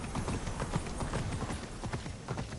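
Horse hooves clip-clopping in Immortals Fenyx Rising, a steady rhythmic trot of close, moderately loud hoofbeats continuing throughout with no talk.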